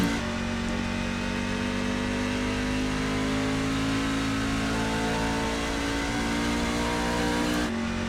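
Race trucks roar around the Phoenix track, a loud, steady blare of engine noise with layered revving that holds unbroken for several seconds and cuts off near the end.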